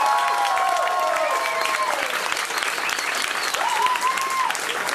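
Dense audience applause rolls on steadily in a lively hall, with whistles and cheering voices rising over the continuous clapping.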